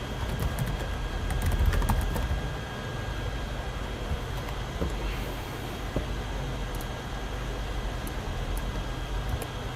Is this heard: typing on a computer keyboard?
yes